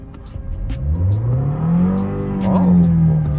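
A 2016 Lexus IS200t 2.0T engine revs up to about 4,000 rpm, its pitch climbing steadily and then holding high, with a voice speaking faintly underneath.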